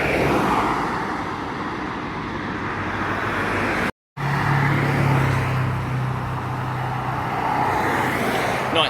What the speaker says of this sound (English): Stuck in traffic, PDF 567 on the C68 from Stow-on-the-Wold to Cirencester College.